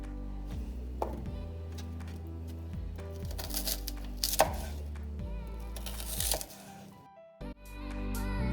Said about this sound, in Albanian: të gjithë përbërësit qip, spec dhe erza do t'i grim në mënyrë sa më të imtë